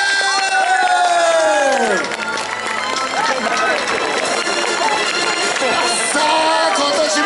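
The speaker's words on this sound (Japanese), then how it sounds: "ライダーたちの大きな拍手" Snowboard and ski riders at an outdoor snow park event in Sapporo applaud and cheer, a loud, sustained burst of clapping and crowd noise.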